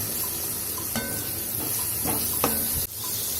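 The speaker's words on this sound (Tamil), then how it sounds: "இப்போ நம்ம வெங்காயத்தை போட்டுக்கலாம்." Chopped onions frying with garlic in hot oil in a pan, sizzling steadily throughout with a few soft stirring knocks and scrapes over the constant hiss.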